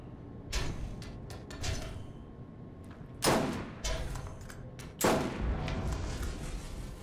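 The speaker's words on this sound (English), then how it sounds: "Gatling turret trap." Gatling turret trap in Borderlands letting off three heavy booming bursts at about two-second gaps, each loud, broadband and decaying into a low rumble, over steady game background noise.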